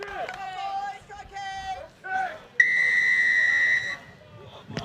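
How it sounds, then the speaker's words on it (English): A referee's whistle starts a schoolboy rugby match at a national schools festival, one long steady shrill blast lasting over a second, preceded by someone speaking and followed by a short burst of crowd noise. "On my whistle, please."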